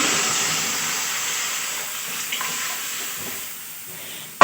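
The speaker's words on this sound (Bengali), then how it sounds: "তো দেখো ডালটা আমি ঢেলে দিচ্ছি" Cooked mixed dal meeting a hot spice tempering in a pot, a soft continuous sizzle and steamy hiss that fades gradually, ending with a brief sharp clatter.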